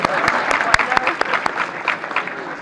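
An audience at an inter-law-school sports award gathering claps for a college family, with loose, irregular claps sounding over a steady background of voices and crowd chatter.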